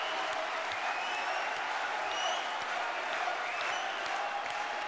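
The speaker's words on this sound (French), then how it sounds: "Vous pouvez encore l'applaudir très fort" A large crowd applauds at a political party rally marking ten years of the UPR, an even, dense wash of clapping held at constant loudness throughout.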